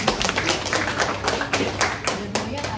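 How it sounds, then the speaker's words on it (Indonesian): A small audience at a film launch event claps in a brief burst of close, distinct handclaps with an irregular rhythm, with some voices mixed in. "Tepuk tangan ya."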